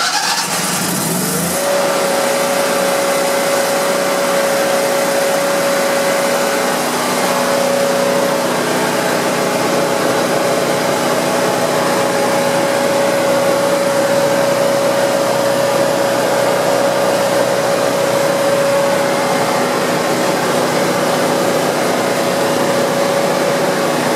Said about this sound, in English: We got the Bobcat welder with only about 11 hours on it. We might as well start it up for you and let you hear it.